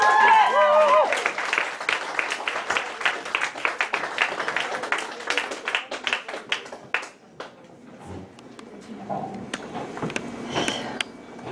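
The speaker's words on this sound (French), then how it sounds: "Alors, une bonne main d'applaudissements pour Annie Schneider, s'il vous plaît!" Audience applause in a bar during a poetry slam in Montréal, dense clapping that starts loud with a brief cheer, then thins into scattered claps and dies out near the end as people shift and murmur.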